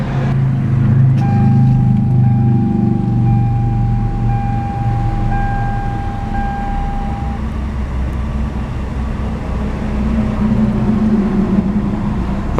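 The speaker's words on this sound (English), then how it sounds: "Beautiful smooth purr from that newly developed turbocharged Gamma Series 4-cylinder power plant." A 2014 Hyundai Veloster Turbo's Gamma turbocharged four-cylinder starts and settles into a steady, smooth idle, a loud continuous low hum with a faint whine near the start.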